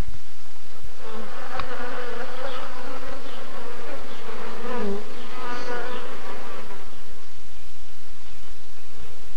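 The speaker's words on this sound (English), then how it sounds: "The society of honeybees is highly complex" Honeybees buzzing near their hive: a loud, continuous droning hum with wavering pitch as individual bees pass close, a dense steady swarm sound with no speech.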